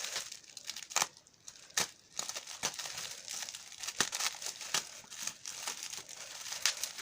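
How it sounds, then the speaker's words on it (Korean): Packaging is crinkled and torn open while unboxing a doll, with close, irregular plastic and paper rustles and sharp ripping bursts, quiet overall and no talking. "우와 이제 뜯어볼게요"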